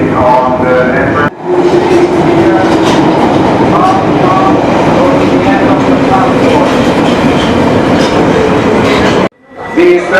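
A London Underground train pulls away from the platform with a loud, steady rumble and rattle of wheels on track, close and filling the space, with brief tonal whines as it gathers speed.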